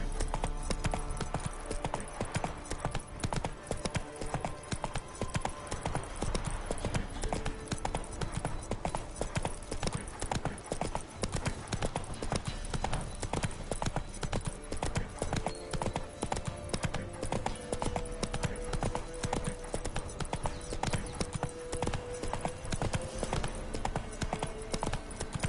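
A horse gallops in the video game The Witcher 3. Rapid, steady hoofbeats clop continuously for the whole stretch, loud and close over a dense game soundscape, with no talk.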